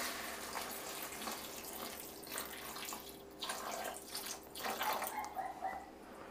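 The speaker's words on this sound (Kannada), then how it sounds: "ಲೈಟಾಗಿ ನೀರು ಉಯ್ಯೋಣ." Water poured lightly into a pan of tomato gojju cooking with coriander leaves, a soft continuous trickle and splash lasting several seconds, faint and close with no talking.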